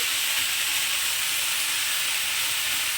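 Chopped fenugreek greens hit a hot pan with rice, setting off a loud, steady, close-up sizzle that holds unbroken throughout with no talking.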